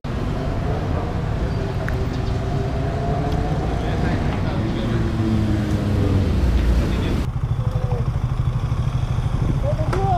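A new KTM Duke 250 motorcycle runs close by with a steady, loud engine drone that rises slightly in pitch, then drops to a lower idle-like rumble partway through. Voices are faintly present over the engine.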